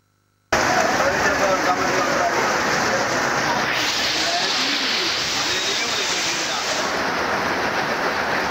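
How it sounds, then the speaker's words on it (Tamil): Heavy rain pours down over a city street in Madurai, a loud, continuous, even roar of downpour that sets in abruptly and holds steady throughout. "மதுரையில் பலத்த இடியுடன் கூடிய கனமழை என்பது ஒரு மணி நேரத்திற்கு மேலாக பெய்தது"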